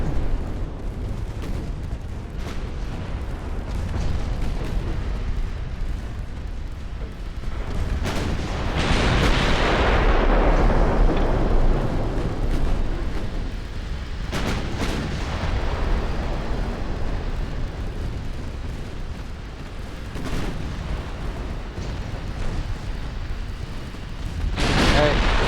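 Warship naval gunfire from Ultimate Admiral: Dreadnoughts, an 1890-era hull battle in dynamic weather: a dense rumbling bed of heavy cannon booms with a big swelling blast near the middle and more bursts later, mixed with spoken commentary.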